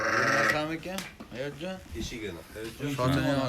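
Sheep from a flock of about sixty bleat close by in short, repeated wavering calls, several overlapping across a few seconds, with someone talking among them.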